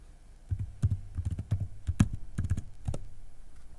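A password typed on a computer keyboard, a quick irregular run of close, crisp key clicks lasting a few seconds with no talking.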